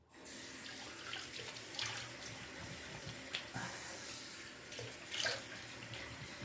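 Tap water runs steadily into a sink as a safety razor blade is rinsed during a wet shave, a continuous close splashing flow with brief sharper bursts where the razor passes under the stream.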